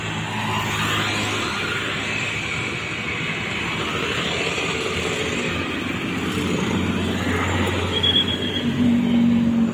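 Steady stream of cars and motorbikes on a road wet after rain during the 2022 Eid homecoming exodus, a continuous broad rumble and hiss of passing vehicles with a few nearer passes swelling toward the end.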